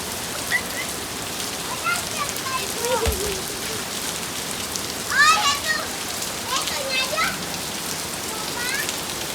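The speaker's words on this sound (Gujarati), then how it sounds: "પછી જો કેટલો સરસ વરસાદ આવ્યો" Steady rain patters on a surface throughout, with children's voices chirping faintly in the background at moments.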